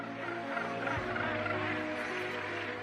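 Cape gannets in a dense breeding colony on Bird Island raise a continuous harsh, honking chatter, many birds calling at once at mid distance with no voices over it.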